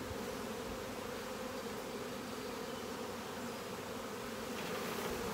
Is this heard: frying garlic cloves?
no